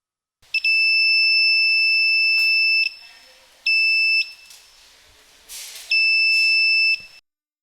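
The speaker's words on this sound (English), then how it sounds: "The buzzer will keep ringing as long as it keeps detecting an object." A piercing electronic buzzer in an infrared security alarm sounds in three bursts, a long one followed by two shorter ones, shrill and close with brief quiet gaps between.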